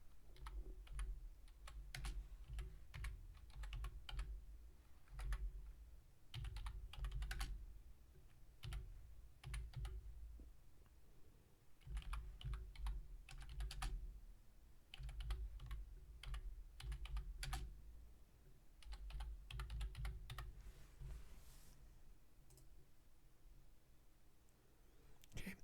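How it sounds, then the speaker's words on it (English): Steady typing on a computer keyboard, close and fairly quiet, in uneven bursts of rapid keystrokes with short pauses between, no talking. "Let me just type it in here."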